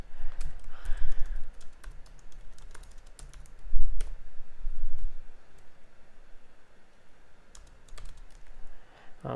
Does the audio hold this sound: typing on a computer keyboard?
yes